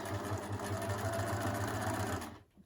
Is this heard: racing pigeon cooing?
no